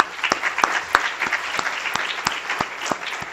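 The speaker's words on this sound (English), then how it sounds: "I would ask you to join me in giving this whole group a round of applause" An audience gives a round of applause for a group of admitted students at a public health school event, with steady, dense clapping throughout and sharp individual claps standing out near the front.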